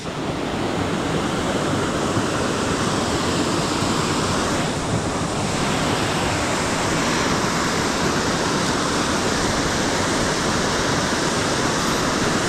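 A steady, dense roar of rushing water from a waterfall during a flash flood, broadband and constant for the whole stretch, loud and close with no speech over it.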